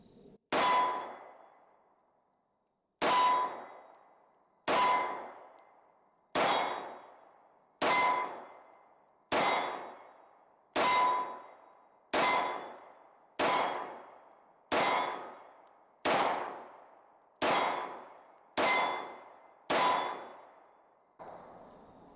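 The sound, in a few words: Smith & Wesson SD40 2.0 .40 S&W pistol shots at range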